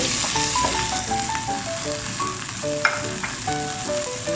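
Flowering chives and liver stir-frying in a hot wok with oyster sauce, a steady sizzle broken by scraping spatula strokes and a sharp clink, with no talking.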